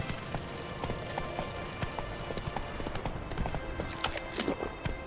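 Roach, the horse in The Witcher 3 video game, trots with steady, fairly quiet rhythmic hoof clip-clops over a light ambient backdrop.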